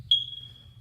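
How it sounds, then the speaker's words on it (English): One high electronic beep sounds, sharp at the start and then ringing on as a thin, fading tone. "if I hear that beep one more time"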